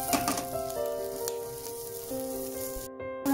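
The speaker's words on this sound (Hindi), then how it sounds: "हम इसको तेज आंच पे पकाएंगे फॉर अबाउट 2 मिनट, जब तक ये थोड़ा सा ब्राउन और थोड़ा सा सॉफ्ट नहीं हो जाता।" Chicken sticks sizzle and fry in a pan over high heat for an Indo-Chinese appetizer, a steady close crackle with a few stirring clinks and a high tonal hum in the background, with no talking.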